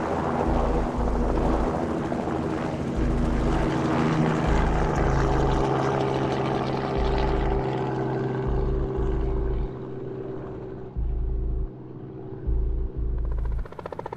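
A helicopter surveying oil and gas production sites for methane leaks drones loudly and steadily, its rotor and engine pulsing thump continuing throughout before easing slightly toward the end.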